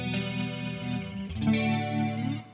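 Electric guitar through a ToneX rotary effect, playing sustained distorted chords with a swirling, wavering shimmer, a brief change in the middle, and no talking over it.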